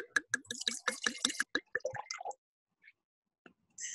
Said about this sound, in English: you're going to pour yourself a glass